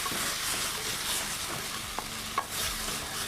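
A ginger and corn flour sauce thickens in a pan, with steady sizzling and bubbling under a few soft stirring scrapes, close and continuous without voices.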